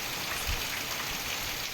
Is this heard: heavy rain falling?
yes